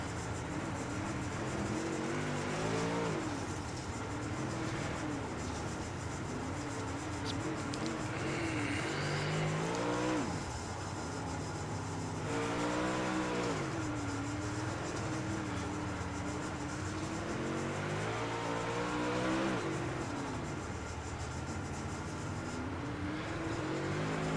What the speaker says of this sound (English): You can hear that motor really isn't winding out that much.